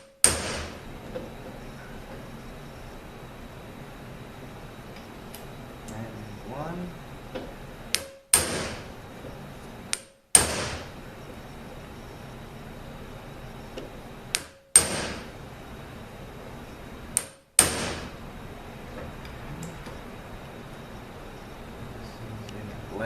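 Sharp metal hammer blows strike to shock a bolt loose on a ZF6HP19 transmission pump, about seven loud, separate hits spaced a few seconds apart, with quiet workshop noise between them.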